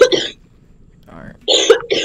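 Coughing from a person during a Minecraft speedrun, several harsh bursts in two clusters separated by a quieter gap, close and loud.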